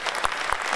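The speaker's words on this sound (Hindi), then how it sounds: "ताली बजा सकते हैं आप" A poetry-gathering audience at a kavi sammelan and mushaira gives a brief burst of applause, with moderately loud, dense clapping across the short moment.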